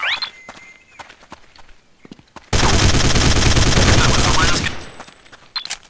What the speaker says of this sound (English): Spam it with little bursts. I'm a really big fan of burst fire mode.